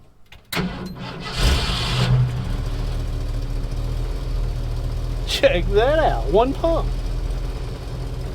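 A Ford F1 shop truck engine cranks and fires at about half a second, then settles into a steady, loud close-up idle while someone speaks over it.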